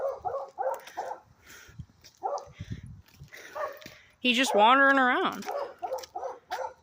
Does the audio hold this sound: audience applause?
no